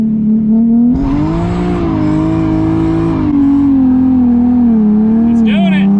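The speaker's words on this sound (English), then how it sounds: "Let's see how this thing does in a burnout." A drift car does a burnout, its engine held at a high steady rev with a rising, sustained roar and scrubbing tyre noise, loud and close, with a brief extra squeal near the end.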